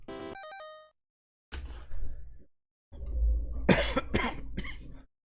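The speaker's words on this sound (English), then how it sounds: "I can't get rid of this cough" A man coughs several times in harsh bursts, loud and close, after a short electronic game jingle.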